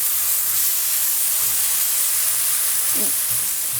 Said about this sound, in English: We're just sauteing this a little.